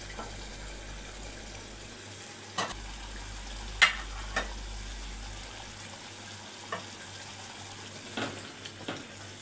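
Eggplant and potatoes fry in a pan with a soft, steady sizzle, broken by several sharp clicks and scrapes of stirring; no voices.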